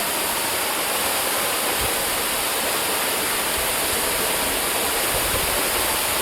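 Water pours in a dense, steady roar from a jungle waterfall close by, loud and unbroken throughout.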